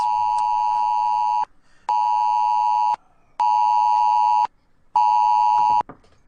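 An emergency presidential alert tone blaring from a cell phone: four loud, harsh sustained electronic blasts of about a second each, separated by short silences.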